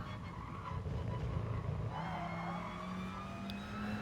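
A race car at full throttle through a long right-hand sweeper in Gran Turismo Sport, a steady faint engine drone with a rising whine and a touch of tyre scrub, no voices.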